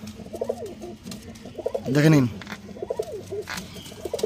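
Punjabi Malbai pigeons coo in repeated low, throaty bursts close by, mixed with a brief louder coo and someone talking over them.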